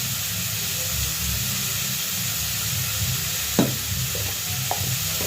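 Spices with a splash of water added sizzle steadily in a wok, a continuous moderate hiss with a couple of brief sharper spatters near the end.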